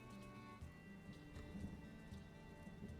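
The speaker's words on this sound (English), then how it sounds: "Rainy day means grabbing lots of dew" Rain falling in My Time at Sandrock, a soft steady patter and hiss of drops on surfaces under a faint tonal game music bed, low and continuous.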